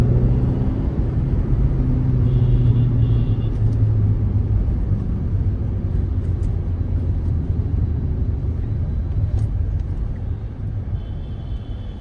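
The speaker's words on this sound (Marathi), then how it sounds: "आता वाजले संध्याकाळचे 7 आणि ट्रॅफिक खूप जास्त झालंय." Heavy evening traffic on the Thane to Mankoli highway produces a steady, loud low rumble of engines and tyres that persists for the full span, with no speech.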